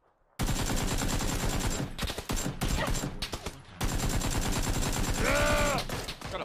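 AK rifle gunfire in PUBG: dense, loud automatic bursts of rapid shots with short pauses between volleys, continuing for several seconds with no speech over the shooting.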